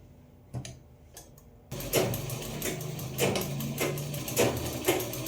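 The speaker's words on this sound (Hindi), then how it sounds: "तो अब हम इसको यहाँ पर सिल देंगे।" A sewing machine stitches a pajama. There are a few soft clicks, then a close, steady mechanical chatter with rhythmic ticking pulses and no voices.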